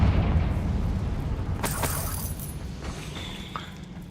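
Confringo spell blast in the video game Hogwarts Legacy, a loud rumbling boom that decays into crackling debris and shattering bits over a few seconds.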